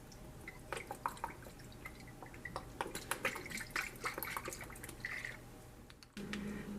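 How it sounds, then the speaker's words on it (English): Worcestershire sauce pours into a beef stew in a crock pot, a soft run of drips and small liquid splashes, quiet and close, ending with a faint thud. "Then I'm going to add a bunch of Worcestershire sauce"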